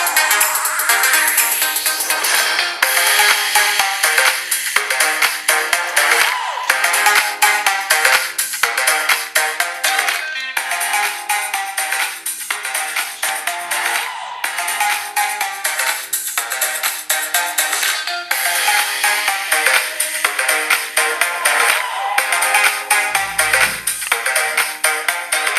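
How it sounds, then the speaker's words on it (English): Mid-range speaker from a Harman/Kardon Logic7 system after repair, playing bright, dense music continuously and loudly for about twenty-five seconds with no talking. "this is how its mid-range speaker sounds like"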